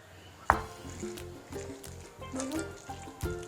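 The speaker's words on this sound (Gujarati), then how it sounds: "પહેલાં આપણે થોડું પાણી એડ કરી દેવાનું" Water is poured into a batter of fresh green corn and semolina for a snack, a soft liquid splash followed by faint trickling and light mixing sounds over a quiet kitchen background.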